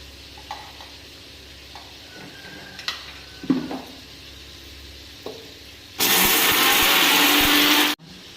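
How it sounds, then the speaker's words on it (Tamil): A kitchen mixer grinder runs on tomato and onion, with a loud, steady whirr for about two seconds near the end that cuts off sharply, after a few light clinks and taps. "இதெல்லாம் வந்து மிக்சியில் போட்டு அடிச்சுக்கலாம்"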